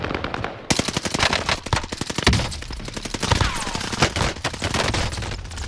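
Dense automatic gunfire from a video game shooter, loud rapid rattling shots firing almost continuously with brief gaps and heavier blasts throughout.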